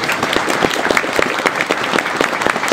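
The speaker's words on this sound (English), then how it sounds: "Give us a round of applause for Gold Star family members." An audience at a Ranger graduation ceremony applauds Gold Star family members with loud, close clapping, individual claps standing out in a steady burst.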